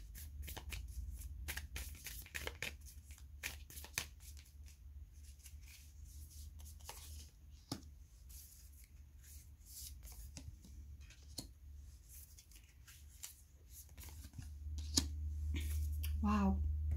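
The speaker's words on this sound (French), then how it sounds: "laissez-moi prendre 3 cartes ici et on commence" Tarot cards are shuffled and drawn by hand in a quiet room, giving repeated soft flicking and riffling clicks spread across the span, with brief murmured speech and a low hum building toward the end.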